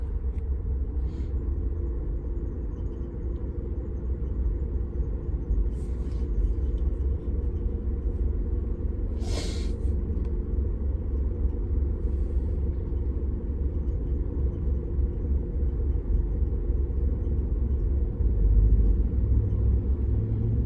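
A heavy, continuous traffic rumble holds at a busy freeway intersection, deep and steady for about twenty seconds, swelling near the end as a big truck passes close.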